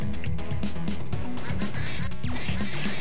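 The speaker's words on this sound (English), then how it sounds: "Oh great, and I gotta avoid ducks." Rapid, dense duck quacks repeat over a loud, busy soundtrack with constant music and effects in the video game Curse of the Chocolate Fountain, the quacking bursting out again and again.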